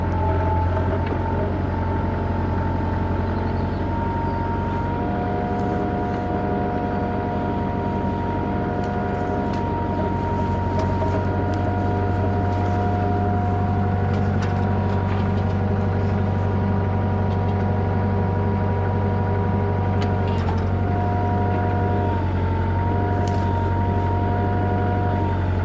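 A Kubota mini excavator's diesel engine runs steadily beside a pond, a constant loud low drone with a slight change in pitch near the end as throttle shifts, continuous throughout with no voices.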